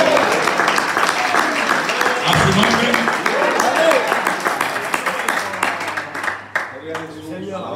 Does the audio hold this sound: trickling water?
no